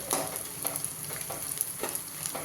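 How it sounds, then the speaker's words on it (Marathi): Edible gum (dink) fries in oil over a low flame, giving a soft continuous sizzle with a few light stirring taps and scrapes spaced through the short stretch. "मी पहिल्यांदाच असा डिंक तळून घेण्याचा प्रयत्न करते"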